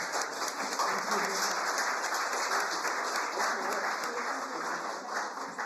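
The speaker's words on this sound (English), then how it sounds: "Let's give them a round of applause." Attendees at a meeting between Washington Governor Jay Inslee and Hyogo Prefecture Governor Motohiko Saito give a sustained round of applause, an even wash of many hands clapping with faint voices mixed in.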